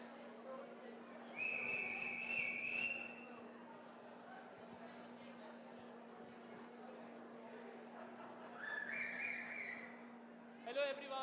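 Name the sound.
whistle blown to get attention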